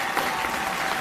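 Audience applause breaks out at a government skill centre inauguration in Delhi's Matia Mahal, a dense, steady wash of clapping filling the space for a brief moment.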